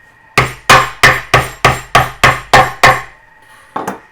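A heavy blade chops through corn cobs for corn ribs: eight loud, evenly spaced whacks come in a fast steady rhythm, then a short pause and one lighter final knock.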